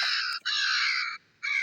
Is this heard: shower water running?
no